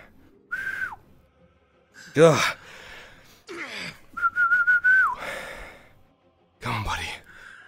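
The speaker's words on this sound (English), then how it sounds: "He's gonna whistle for Maelstrom." A person whistles to call a horse, two sustained level whistles with a downward slide at the end of each, set among gasps, sighs and short spoken exclamations.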